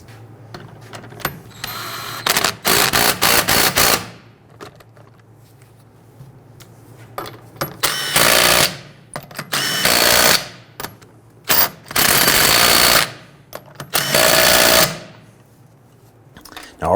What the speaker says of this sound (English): Let's install the lug nuts. Once we get all these installed, we'll go ahead and snug them down.